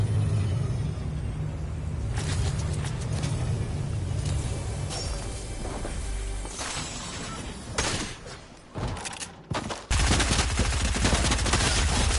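Loud gunfire in the Fortnite video game: dense, continuous bursts of shots and rumbling impacts for about twelve seconds, growing choppier near the end before a heavy final volley.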